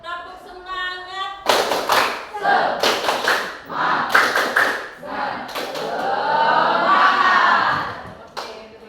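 Schoolchildren in a classroom perform a rhythmic clapping chant, bursts of loud group claps in quick patterns alternating with chanted voices, the whole class clapping together up close.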